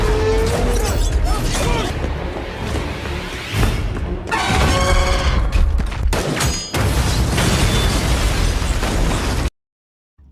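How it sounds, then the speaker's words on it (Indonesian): Gunshot and an exploding cylinder holding magnesium oxide in a monster film: loud, dense blasts and booming rumble fill the scene almost continuously, with voices mixed in, before cutting to silence at the end. "Will berhasil membunuh Reaper setelah dia nembak tabung yang berisi magnesium oksida"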